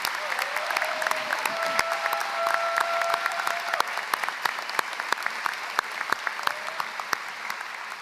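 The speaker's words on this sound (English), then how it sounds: "Please join me in a round of applause for this team." Large crowd at a college commencement ceremony applauds steadily for about eight seconds, a full dense clapping with sharp individual claps standing out, a few faint voices mixed in.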